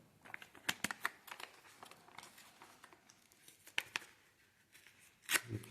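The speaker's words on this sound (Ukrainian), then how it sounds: "Відкриваємо пакетик і будемо висівати дані томати." Quiet crinkling and tearing of a small tomato seed packet, a series of short rustles and snips, close and faint, with no talking.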